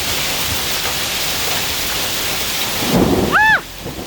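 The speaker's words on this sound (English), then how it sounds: "Look at all the hailstones." A summer hailstorm with heavy rain and hailstones drumming steadily on surfaces, a rolling wash of noise that swells briefly near the end, with a short whistling sound just after the swell.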